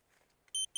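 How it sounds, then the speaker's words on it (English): A lost FPV quadcopter's buzzer sounds two short, shrill electronic beeps in quick succession, clear and fairly loud against faint outdoor background. "And you always have a buzzer on your quad."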